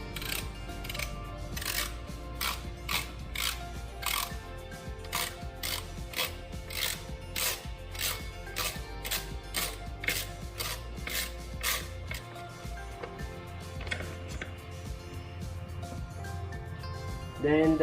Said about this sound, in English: Turn this clockwise to loosen up and remove it.